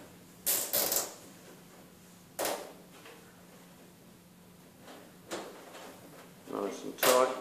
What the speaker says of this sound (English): I've just got to add a little cable tie here to affix the wiring loom